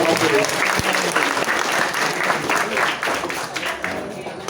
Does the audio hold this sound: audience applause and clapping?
yes